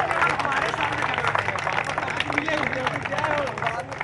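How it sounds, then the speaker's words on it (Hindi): A crowd at an election rally breaks into loud, dense clapping mixed with cheering and chatter, sustained throughout. "जोर से बजाना ताली"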